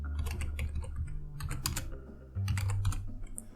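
Fingers type a password on a computer keyboard during an Arch Linux setup, giving quick close bursts of clicking keystrokes separated by short pauses, with no voices.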